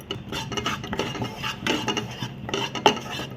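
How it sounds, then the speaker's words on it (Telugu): A metal spoon scrapes and clinks against a pan while wheat flour is dry roasted and stirred, giving a close, steady rhythm of scraping strokes with no one talking. "గోధుమ పిండిని కూడా డ్రై రోస్ట్ చేయాలండి"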